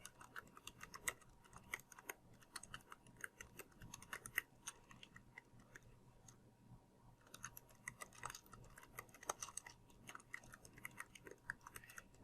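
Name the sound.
typing on a computer keyboard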